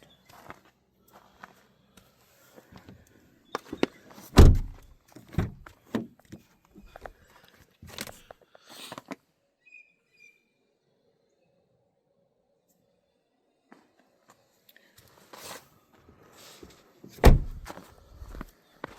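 Tailgate of a 2010 Hyundai Santa Fe being opened and shut, with scattered clicks, shuffling footsteps and a few heavy thuds spread across a mostly quiet stretch.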